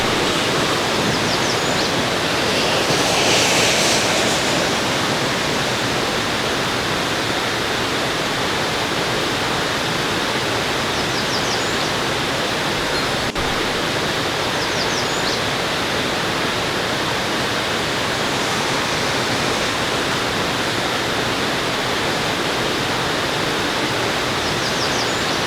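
A waterfall roars as a steady, full broadband rush of falling water, heard from nearby in wet, rainy outdoor surroundings, with no talking over it.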